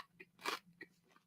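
A pancake overcooked in a microwave crunches as someone bites and chews it: one loud central crunch flanked by a few softer chewing crackles, close and quiet, with no talking.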